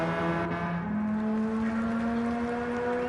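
A race car engine holds a steady high drone with a rising pitch shift as it crosses the finish line in a DTCC championship race, heard close and continuous without talk.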